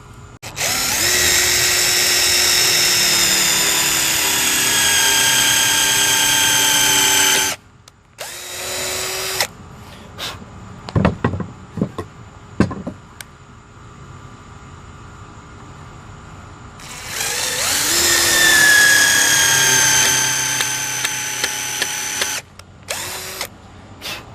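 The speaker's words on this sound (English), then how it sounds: "we'll go ahead and countersink drill those holes and then shoot our screws in" A power drill countersinking holes in 2x2 wood lumber for a barstool whines loudly for several seconds, stops, gives a few short bursts and clicks, then runs again in another long, steady drilling pass.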